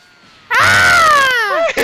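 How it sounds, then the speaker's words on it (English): A character in a fighting video game lets out a loud, sustained, wavering scream that bends downward and cuts off abruptly, with a brief yelp just after. "You heard that scream, didn't you?"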